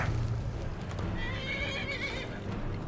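A horse whinnies in a long, wavering neigh over a steady low rumble of game sound and hoof-like clopping in Skyrim.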